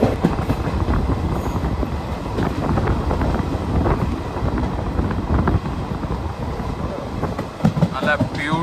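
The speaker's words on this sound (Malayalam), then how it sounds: "ചുരുങ്ങിയ സമയം കൊണ്ട് നമുക്ക് ബാംഗ്ലൂർ എത്താൻ പറ്റുന്ന ഒരു ഇന്റർസിറ്റി ട്രെയിനാണ്." The Ernakulam–Bangalore Intercity Superfast Express, hauled by a WAP4 locomotive, runs at speed, with a loud continuous rumble, rhythmic wheel clatter and wind noise, and a voice speaks over it.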